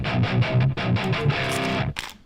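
Heavy distorted electric guitar through a Marshall JCM 800 amp sim in STL Tone Amp Hub, boosted by a Fortin 66 into a Marshall 4x12 cab, chugging rhythmic palm-muted riffing, loud and dense, ending on a cut-off chord.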